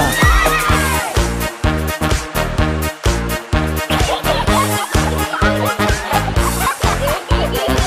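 A horse whinny sound effect sits inside a loud Tamil children's Vacation Bible School song, layered over a driving, steady beat with dense music throughout.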